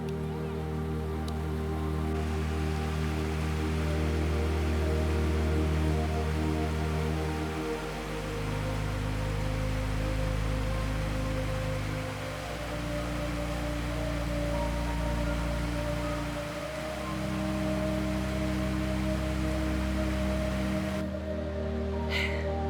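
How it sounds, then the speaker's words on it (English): Rain falls steadily during an Alpine hike on the Via Alpina between Engelberg and Griesalp, a constant soft hiss with a low rumble underneath, no voices. "Hey, hiking in the rain."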